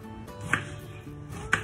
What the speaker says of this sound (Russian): я просто обрежу хвостики и нарежу его на небольшие кусочки, вот таким образом.